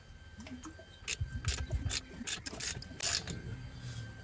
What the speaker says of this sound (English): Now I'm going to turn the engine over and make sure all of this is all moving properly